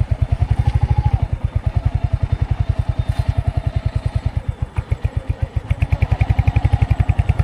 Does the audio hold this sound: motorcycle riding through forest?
yes